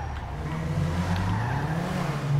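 A car in GTA 5 Online revs its engine and accelerates with tire squeal and skidding, a steady close engine drone rising toward the end, with no talk over it.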